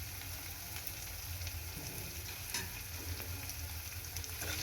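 A garam masala mixture is stirred in a hot pan, a faint steady sizzle with soft scraping strokes close up and no voices.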